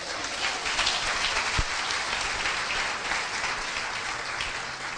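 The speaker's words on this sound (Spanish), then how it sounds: "Denle un aplauso fuerte al Señor." A church congregation breaks into loud, sustained applause to honor the Lord during a Spanish-language sermon, a dense wash of clapping that holds steady for several seconds with no voices over it.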